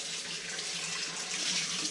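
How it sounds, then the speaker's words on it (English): A kitchen faucet runs steadily into the sink as hands get a quick rinse, a close, continuous broadband splash with no talking. "I turn the faucet out with the top of my hand, give it a quick rinse."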